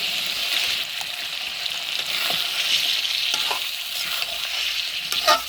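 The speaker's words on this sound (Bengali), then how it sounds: "মশলাটা কষানো হয়ে গেছে, এখন চিকেনগুলো দিয়ে দিই।" Chicken pieces go into spiced masala frying in a pan over a wood-fired stove, giving a continuous close sizzle with light stirring rustles throughout and no voices.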